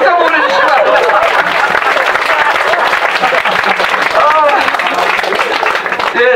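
A crowd at a Korean election-season talk event applauds loudly and continuously, with scattered cheers and voices mixed into the close, dense clapping.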